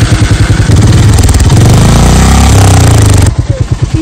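A motorcycle engine runs close and loud with a rapid, pulsing thump, swelling into a heavier, continuous roar as it revs, then dropping back to the chugging idle rhythm at the end.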